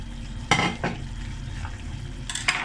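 Mutton dahi karahi stirred in a pan, with two sharp scraping strokes early on and another pair near the end over a low, steady sizzle.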